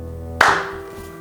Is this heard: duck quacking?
no